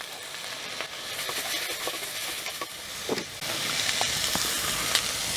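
Onions for pepper mutton gravy sauté in a pan with a dense, bright sizzle and hiss, punctuated by scattered clicks and stirring scrapes, growing a little louder midway and heard close with no talk.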